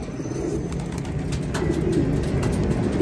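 Racing pigeons landing and pairing up in a loft, soft repeated cooing from several birds close by, with wing flutters and a busy low background.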